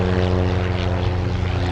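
A Boeing 747 Dreamlifter at Anchorage airport gives off a steady, loud propeller-type engine drone that holds unbroken and even throughout, with no voices.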